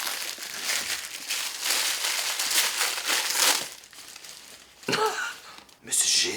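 Tissue paper crinkles and rustles loudly and continuously up close as a package is unwrapped, with a person talking over it and a few sharper tearing crackles near the end.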